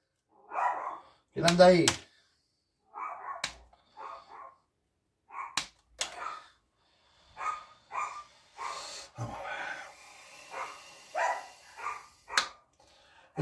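Dogs bark in short, scattered bursts at people walking past the door in the evening. The barks are mixed with intermittent talking and breathing, and their loudness varies from near to slightly distant.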